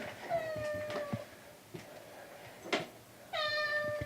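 A cat, likely pregnant, at an animal shelter with stainless steel cubbies, giving several distinct, fairly quiet meows spread over a few seconds, the last one longer, against a soft indoor background.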